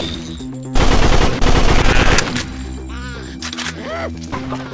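Sustained automatic gunfire in the video game Veggie Killer, loud and continuous through the middle, then trailing off into game effects and background music while a player talks over it.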